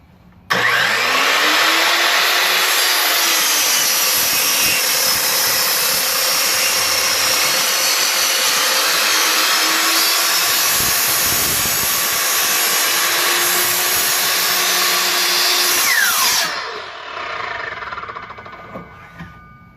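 A Ridgid R4222 sliding miter saw cuts through a 6x6 post with a loud, steady high-pitched whine and grinding roar for about fifteen seconds, then the motor spins down as the blade winds to a stop.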